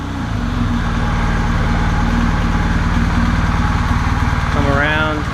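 A motorcycle engine fires up and settles into a steady, loud, close idle with a rapid even putter, and a brief rising whine near the end.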